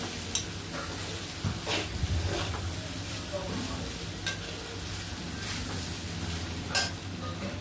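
Egg chow mein is stirred in a frying pan, a low sizzle running under occasional soft scrapes and clinks of a utensil, fairly quiet and close.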